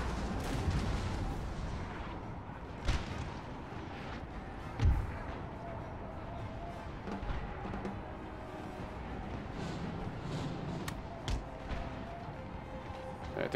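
Booming cannon fire thuds in the distance amid a dense, noisy battle din in the video game Napoleon: Total War with the Darthmod mod, several heavier blasts standing out and voices underneath.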